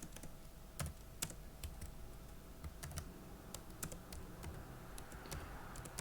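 Fast typing on a computer keyboard while writing Arduino code, a quiet, close run of irregular key clicks with occasional louder taps and no voices.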